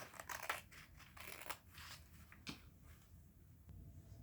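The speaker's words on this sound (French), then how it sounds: "on va découper soigneusement pour ne pas abîmer le papier ou le carton" Scissors cut through glued paper and cardboard for a handmade plush toy bed, giving a series of crisp, quiet snips and crunches at an uneven pace that trail off toward the end, close and faint.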